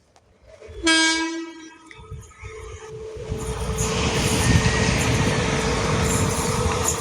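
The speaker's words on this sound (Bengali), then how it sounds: "আলিপুরদুয়ার থেকে এসএমবিটি বেঙ্গালুরু, অমৃত ভারত এক্সপ্রেস। অমৃত ভারত লোকোমোটিভ নিয়ে।" Amrit Bharat Express from Alipurduar to SMVT Bengaluru, hauled by an Amrit Bharat locomotive, sounds a long two-tone horn and then rumbles past, its wheels and carriages growing into a steady, loud clatter.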